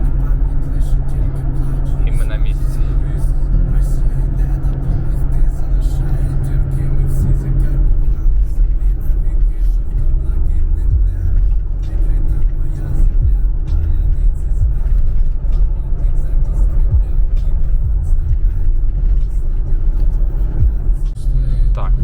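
A car cruising on a highway during a road trip, its all-wheel drive engaging behind a rear-wheel-drive setup, gives a steady, loud low rumble and road drone from inside the cabin for the whole stretch, with some talk over it.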